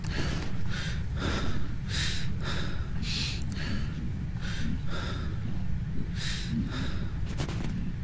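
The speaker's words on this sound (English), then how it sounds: "can you stop breathing for a moment so I can talk?" In the horror game Hide, the player character breathes heavily: about a dozen loud, rhythmic breaths, close up and regular, over a constant low rumbling ambience.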